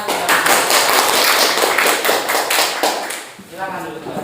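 A classroom of students claps together in a quick, rhythmic burst, the sharp hand-claps loud and close before trailing off into a brief murmur.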